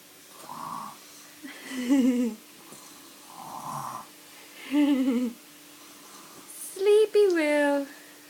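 A young child lying in bed making pretend snores, a voice imitating snoring in about three slow, breathy rounds separated by pauses, close and clear, with soft adult talk between.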